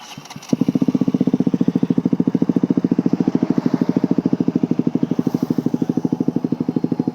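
A KTM Duke 200 motorcycle fitted with an Akrapovic exhaust fires up and settles into a loud, close idle, its fast, even exhaust pulses thumping steadily throughout.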